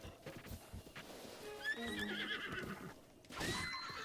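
A horse in the video game Zelda: Breath of the Wild whinnies loudly after being smacked, a rising, wavering neigh over soft hoof clip-clops, with a second snort-like burst at the end.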